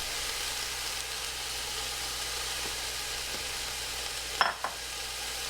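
Chopped apple frying in a pan with a steady sizzle and soft stirring scrapes, followed near the end by a couple of louder utensil clinks against the pan.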